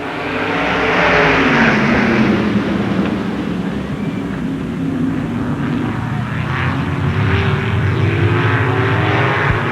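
A field of 1997 outlaw winged sprint cars taking the green flag at Baer Field Speedway, a loud massed engine roar that swells and surges as the pack accelerates, with no voices over it.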